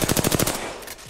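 A rapid burst of about seven automatic shots in Apex Legends, close and loud, then cutting off into a fading tail and brief quiet.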